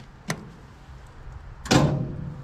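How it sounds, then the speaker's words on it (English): A Central Boiler CL 6048 outdoor wood boiler's damper door swings open with a short click, then a louder mechanical clunk and whirring rush about a second and a half later. "and it should open the damper door."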